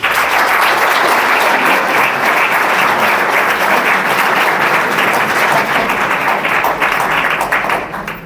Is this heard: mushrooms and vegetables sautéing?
no